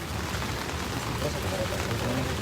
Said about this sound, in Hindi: हम लोग नहीं खोलेंगे क्योंकि बारिश हो रहा है।